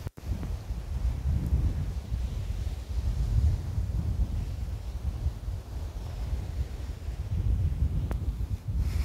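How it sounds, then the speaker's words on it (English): Steady wind buffets the microphone on the ocean shore at Brighton Beach, Coney Island, New York, a continuous low rumbling roar that swells and eases throughout with no voices. "the only downside is that it's always windy"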